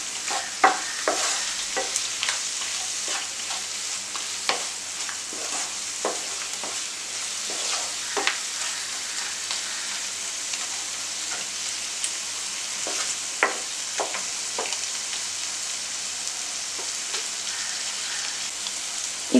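Coriander and other ingredients for kuzhambu sautéing in a pan, giving a steady close sizzling hiss broken by frequent short scraping stir clicks, with no talking.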